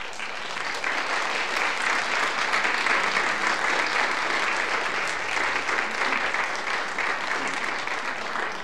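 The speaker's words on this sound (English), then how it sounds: "would you stand so we could give you a round of applause?" A church congregation at a Sunday service claps in a sustained round of applause, a dense, even wash of many hands that holds steady for about eight seconds, with no speech over it.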